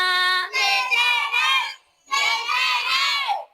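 A primary school class of children, grade 2B in an Indonesian classroom, shouts a loud greeting in unison in two long, sustained bursts separated by a short pause.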